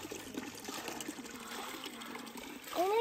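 Cold natural spring water trickling and splashing over hands being washed outdoors after a dusty hike, a steady close stream with a brief louder splash near the end.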